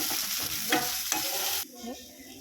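Pepper, coriander seeds and cut tomato frying for trotter soup, a busy sizzle with scraping stirs that suddenly quiets as the tomato goes in, followed by softer frying.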